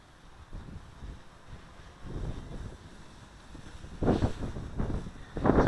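Wind gusts buffet the microphone outdoors while an SK450 quadcopter flies on its maiden flight beside a shaded building, the rushing growing louder in bursts toward the end.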